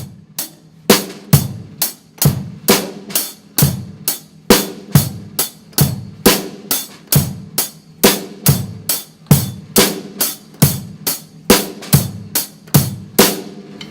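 Rock drum beat on a kit: bass drum and backbeat snare under steady eighth-note hi-hats, played close and clear for several bars with no talking.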